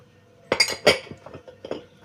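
A spoon stirs yeast and sugar in a mixing bowl for pastry dough, giving a handful of sharp clinks and scrapes in an uneven rhythm, close and fairly clear.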